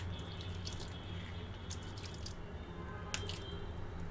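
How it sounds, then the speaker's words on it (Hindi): Water poured into a pan of melted ghee and jaggery over a low flame, faint drips and splashes with a brief louder splash, over a steady low background rumble. "और साथ ही में हम यहाँ पर थोड़ा सा पानी डाल देंगे।"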